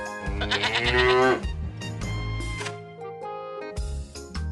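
A cartoon goat in an educational grammar game lets out a loud, wavering bleat, followed by shorter bleats and bright musical game tones over a low steady hum.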